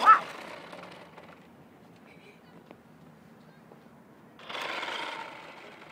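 A child's remote-controlled toy car gives a brief high whirring buzz from its small electric motor. A quiet stretch follows, then a second louder whir of about a second, all faint and close by.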